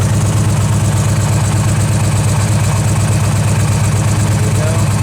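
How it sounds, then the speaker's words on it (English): Victory Vision Tour motorcycle, a 2011 model with D&D exhaust and Arlen Ness extras, idling steadily close by with a smooth, even low rumble throughout. "tell how smooth the engine is running. Idle is perfect."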